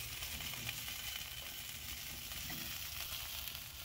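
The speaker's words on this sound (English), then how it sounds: "Once you get that sear over with, you can take it and just flip it and see what that sear look like" Baby back ribs sear in a hot pan with a faint, continuous sizzle and crackle, steady and unbroken, with a low hum underneath and no speech.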